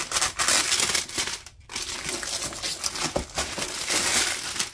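Clear plastic wrapping is handled around a Princess Auto impact wrench, crinkling and crackling loudly up close in irregular bursts with one short pause.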